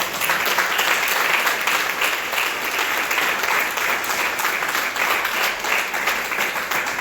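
A church congregation bursts into loud, sustained applause and cheering, dense clapping filling the room evenly from start to finish.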